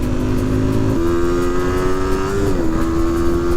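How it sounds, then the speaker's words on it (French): A Moto Morini trail motorcycle runs at full throttle on a road in Corsica, its engine a loud, steady close drone that holds pitch, with a small step up partway through and a slight dip near the end. "Je suis à fond d'accélérateur."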